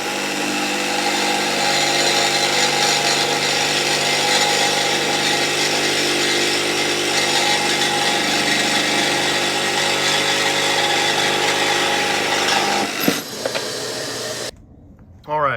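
A power tool cuts metal off the base of a 10-way powered seat during a swivel install in a Ford Transit, running as a steady, loud buzzing whine for about thirteen seconds, then stopping abruptly.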